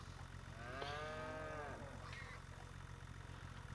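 Cattle moo in a cow barn in a farming video game, one long drawn-out low call followed by a shorter one, set against a steady engine-like hum.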